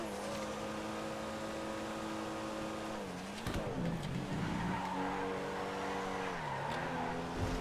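A Comet Retro car in a GTA game slides and skids, its tires squealing in long drawn-out screeches over a steady engine drone, with a brief scuffing burst midway.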